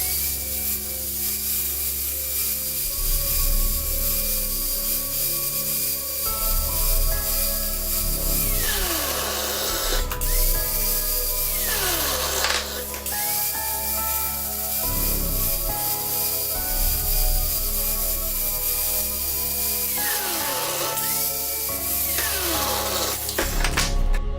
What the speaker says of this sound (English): clean up a little bit with an angle grinder and my regular grinder